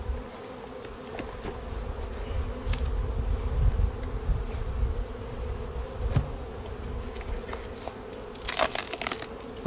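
Honey bees buzz in a hive with hive beetles present, a steady low droning hum with occasional faint crackles and a quiet repeating beep in the background.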